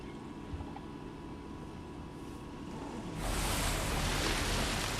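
Lake water from a tour vehicle crossing in Jurassic World Evolution: a soft low watery wash that swells abruptly into a louder, fuller rushing surge partway through.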